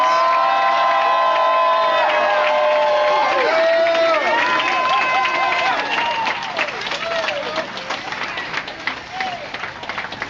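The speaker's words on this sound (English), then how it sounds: "open up your mouth, cheer for the queens" A protest crowd cheers and shouts loudly for the queens, a dense roar of many voices with whoops and rising yells over scattered clapping, staying strong throughout and easing slightly toward the end.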